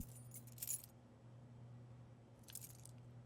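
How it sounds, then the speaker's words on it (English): House keys handed over in the video game Life is Strange: True Colors make two brief, faint metallic jingles, one early and one near the end, over a low steady hum, with no speech. "Keys to the house."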